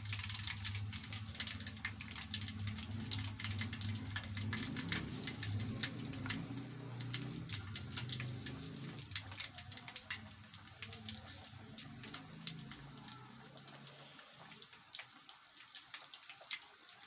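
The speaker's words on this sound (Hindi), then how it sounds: "और डाल के हम इसको भी फ्राई कर लेते हैं।" Chicken pakora fry in hot oil with a steady crackling sizzle and fine spattering pops that run continuously and close up throughout, with a low hum underneath.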